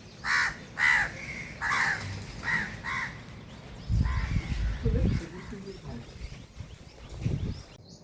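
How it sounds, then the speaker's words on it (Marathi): A crow caws several times in close succession during steady rain in Pune, the calls loud and nearby at first, then low rumbling noise and fainter sounds take over. "कावळा ओरडतोय."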